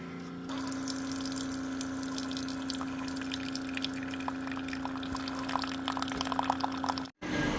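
Fluid runs out of the open rear drain plug on a Ford F150 during service, a quiet, steady trickle and drip over a constant low hum that cuts off briefly near the end.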